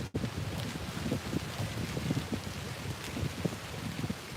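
Wind gusting outdoors on a bright day, a steady rough roar buffeting the microphone with uneven swells throughout.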